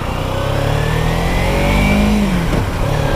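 A 2014 Kawasaki 300 ABS motorcycle engine revs up close, its pitch climbing smoothly and then easing off, loud and steady with no voices.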